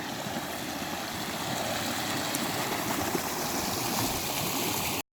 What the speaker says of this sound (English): There's a little tiny waterfall just here.